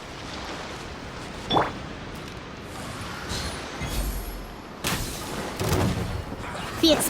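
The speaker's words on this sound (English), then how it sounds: "The explosion was roughly the size I expected." Blast and impact effects from an explosion in the video game Genshin Impact, several sharp bursts and a low rumble spread over a few seconds with game sound underneath.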